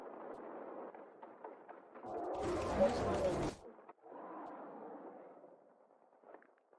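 Animated gunfire and explosions burst out as monsters are shot, a loud booming blast lasting about a second and a half between stretches of dubbed dialogue.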